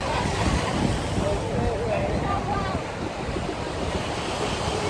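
Ocean surf on a Miami beach, a continuous wash of breaking waves mixed with strong wind buffeting the microphone, steady and fairly loud throughout, with faint voices in the background.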